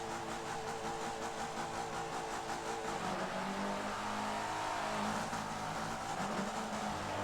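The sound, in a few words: race car engines in Forza video game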